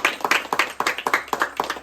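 Group of people clapping for their hosts at a family gathering in Raigad, a brisk run of sharp, overlapping claps at a steady close rhythm with no talk.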